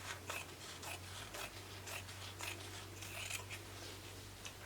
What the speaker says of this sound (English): I'm just going to trim this top portion of fabric off with a pair of fabric scissors